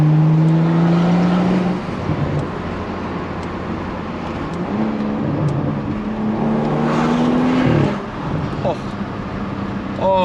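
A BMW 435i M-Sport with an Akrapovic exhaust roars loud and close, its engine note climbing through gears with rising drones and a sharp rev near the end, while people talk and whoop over it.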